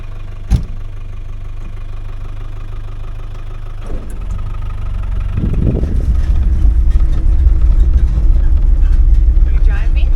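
A vehicle engine idles and then revs up on a foggy Australian sheep farm during lambing, a steady low rumble that swells louder in the second half, close by, with a brief thud near the start and some voices.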